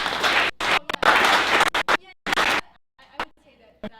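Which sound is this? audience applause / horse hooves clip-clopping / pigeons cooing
audience applause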